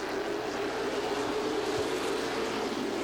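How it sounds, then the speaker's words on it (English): Race cars diving into a corner at Southside Speedway, heard as a steady, fairly distant roar of engines with a sustained droning tone throughout, no voices. "Listen to those cars dive in the corner."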